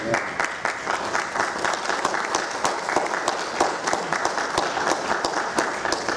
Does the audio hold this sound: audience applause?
yes